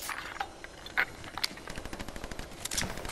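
Rapid automatic gunfire in the Fortnite video game, a dense run of close, even shots ending in a quick burst, loud with no talking over it.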